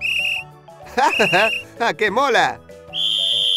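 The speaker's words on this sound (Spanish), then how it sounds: "Lo primero es un silbato para emergencias, para que puedas avisar a la gente a distancia sin tener que gritar." A lifeguard's emergency whistle gives two shrill, steady blasts, one at the start and one at the end, with an excited voice speaking between them.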